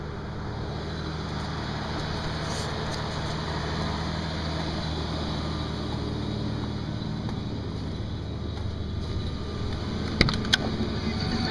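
A car engine drones steadily as the vehicle drives along in winter, a continuous low rumble with road noise throughout and a couple of brief knocks near the end.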